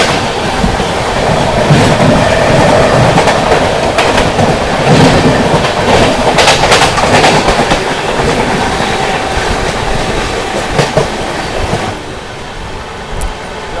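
Amrit Bharat Express passenger train running through Aligarh Junction in heavy rain, a loud steady rumble of wheels and carriages with rhythmic clickety-clack and brief squeals, easing off slightly near the end.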